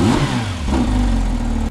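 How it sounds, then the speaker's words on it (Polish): A Porsche 911 GT3 RS engine revs close and loud. A short sharp blip rises and falls, then a steadier rising rev follows, with no other sounds. "A teraz silnik."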